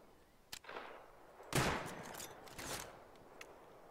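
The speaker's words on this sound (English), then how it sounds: "He's shooting at me or around me." Gunfire in the game Rust sounds as scattered, fairly faint shots at a distance, a few sharp cracks with one louder burst near the middle, without talk.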